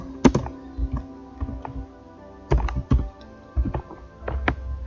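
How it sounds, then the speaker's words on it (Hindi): Computer keyboard keys pressed in a series of sharp, distinct clicks and taps, some in quick pairs, close and fairly loud with no speech, while accounting software is used. "कीबोर्ड से प्रेस करेंगे Alt+C"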